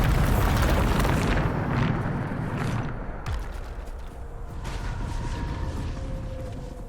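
A heavy Bombarda spell blast in Hogwarts Legacy erupts as a loud, deep boom at the start, then rolls into a long rumbling decay with scattered debris crackle.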